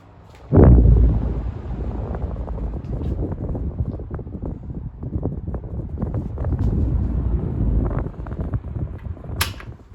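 A 1960s 12-inch desk fan runs with a steady, moderate whoosh of moving air, starting just after a soft thump near the beginning and continuing evenly to the end.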